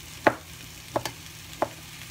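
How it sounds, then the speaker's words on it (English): Knife chopping vegan brunch ingredients on a cutting board: three crisp, separate taps, soft and close, over a faint sizzling background. "I'm just chopping these"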